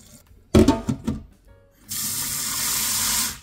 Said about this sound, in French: D'abord, je vais laver le riz